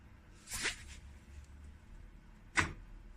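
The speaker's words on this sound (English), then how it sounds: "That's the sound of a briquette going in." Two quiet mechanical clunks, about two seconds apart, with a soft scraping slide, as a Bradley smoker feeds in a wood briquette, faint over a low background hum.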